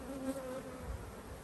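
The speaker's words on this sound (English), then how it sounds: "We got a swarm in the trap out there." A honey bee swarm buzzes inside a swarm trap outdoors, a steady, dense hum of many wings that holds at an even level throughout with no voices.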